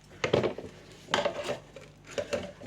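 A knife cuts through crispy baked Heinz spaghetti bolognese pasta, giving a few short crackly crunches with light scraping against a dish, fairly close and without talk.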